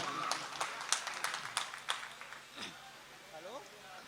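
Audience at an All India Mushaira Urdu poetry gathering in Bijnor gives a burst of scattered, fairly faint hand claps that thin out over about two seconds, followed by a brief voice in the hall.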